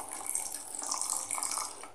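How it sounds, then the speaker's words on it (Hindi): Half a cup of water pours into a pan of jaggery for making syrup, a brief bright splashing stream running steadily for a couple of seconds, close and fairly loud. "अब इसमें हम डालेंगे आधा कप पानी चाशनी बनाने के लिए।"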